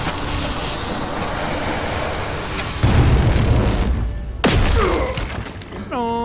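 A brutal execution attack in Warhammer 40k: Chaos Gate – Daemonhunters lands as two heavy booming impacts over a dense rumbling battle ambience, followed by a short ringing, pitched tone, with a voice talking faintly underneath.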